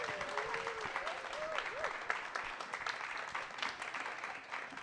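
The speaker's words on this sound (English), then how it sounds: "Big round of applause for our panel," An audience applauds a running panel at an evening event with steady, dense clapping that stays even throughout. A voice speaks briefly over it near the start.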